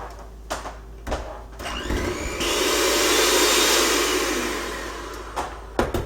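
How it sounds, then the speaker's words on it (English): An electric stand mixer whirs on high for a few seconds while its beaters are lifted out of cookie dough. A steady motor whine swells and then fades, with a few light clunks and knocks before and after. "as I'm pulling the mixer out of the bowl, I turn it on high really quick just for a couple seconds"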